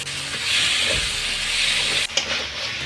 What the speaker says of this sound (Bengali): এখন আমি মাছগুলো দিয়ে ভালোভাবে নাড়াচাড়া করতে থাকবো।